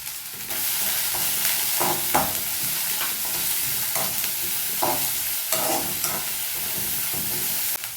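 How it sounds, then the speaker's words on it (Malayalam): Beans, chopped onion, kanthari chili and mustard seeds fry in oil in a pan for a Kerala-style mezhukkupuratti, giving a steady loud sizzle with spatula stirring scrapes throughout, no talking. "കടുക് ഇട്ട് കൊടുക്കാം. ബീൻസ് ചേർത്ത് കൊടുക്കാം. സവാളയും അരിഞ്ഞിട്ട് കാന്താരിയും കൂടി ചേർത്ത് കൊടുക്കുന്നുണ്ട്."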